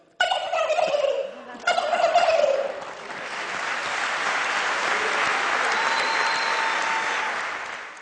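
A human voice imitates a male turkey's gobble in two quick, warbling bursts, followed by a broad wash of audience applause and cheering that swells and carries on to the end.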